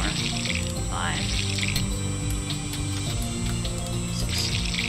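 Running water being collected in the farming video game Monster Harvest, a steady tap-like splash over a constant hum of game music, with faint clicks scattered through.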